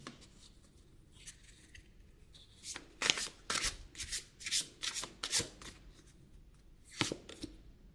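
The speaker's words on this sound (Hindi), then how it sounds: "अगर आप लोगों को कार्ड शफलिंग नहीं देखनी है," Tarot cards riffled and shuffled by hand in several quick bursts of crisp flutter, near and fairly quiet, with brief pauses between them and no talking.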